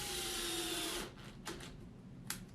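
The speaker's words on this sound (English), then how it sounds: "So first let's drill our first hole at the edge." A drill whirs loudly through the edge of a plastic mop head for about a second and then stops, followed by a few faint knocks and scrapes from handling the plastic.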